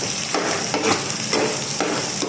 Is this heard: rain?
no